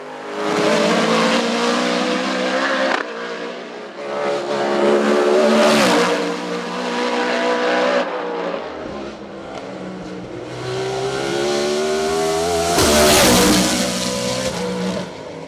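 BMW M3 E92 race car climbing a hill-climb course, its engine loud and close, revving hard through gear changes with rising and falling pitch and brief lifts between pulls, no voices.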